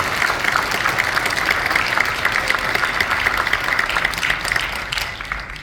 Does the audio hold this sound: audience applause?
yes